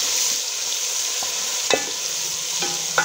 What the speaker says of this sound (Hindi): अब मैं डालूंगी इसमें लहसुन अदरक का पेस्ट,